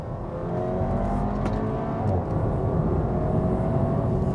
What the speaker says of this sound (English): Okay, you hear the engine